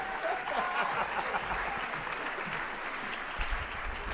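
Sustained applause from the audience at an awards celebration and fundraiser, a dense, steady wash of many hands clapping at an even level throughout with no pauses.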